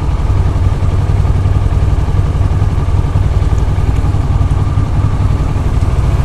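A Honda VFR 1200F motorcycle engine runs at full throttle, giving a loud, close, steady roar with a deep, even drone and no breaks.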